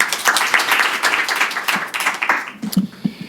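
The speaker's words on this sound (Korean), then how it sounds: "큰 박수 부탁드립니다" An audience at a policy forum claps in dense, lively applause that thins into scattered claps and fades near the end.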